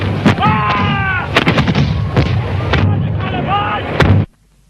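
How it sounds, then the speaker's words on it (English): Cannon artillery opens fire on a film battlefield at the Battle of Culloden, several heavy booming shots in quick succession, loud and close, with shouted commands heard over the barrage before it cuts to near silence. "The rebel cannon have opened fire."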